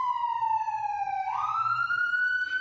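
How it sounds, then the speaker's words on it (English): An ambulance siren passes outside, a clear wailing tone that drops, then jumps and climbs again as it moves along. It is moderately loud with a low background hum and no talk. "God, that is the second ambulance today."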